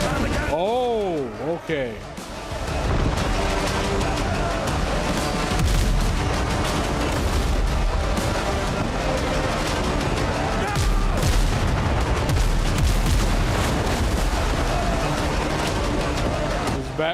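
Ship cannons firing in Windrose boom out in a loud, dense barrage of repeated blasts that rolls on for many seconds, with someone talking briefly at the start.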